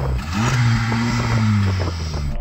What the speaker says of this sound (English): Go on, Yanni, rev up the FK8